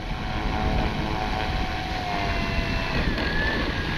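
An E-flite Carbon Z T-28 radio-controlled plane flies overhead with a steady propeller and electric-motor drone, its pitch slowly rising and falling as it passes, heard continuously over outdoor wind noise.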